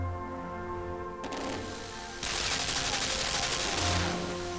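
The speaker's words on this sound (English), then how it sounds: "Screw you, automatic turret cannon thingies." Automatic turret cannons fire in the video game Limbo, a dense burst of rapid gunfire that grows louder and fuller partway through, layered over steady game music with no talking.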